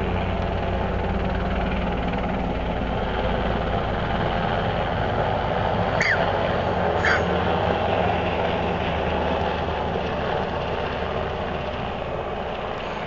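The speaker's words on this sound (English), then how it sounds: "U.S. military helicopter." A U.S. military NATO helicopter passing over Mazar-i-Sharif, Afghanistan, a continuous loud low rotor and engine drone with steady rumble throughout and a couple of faint chirps around the middle.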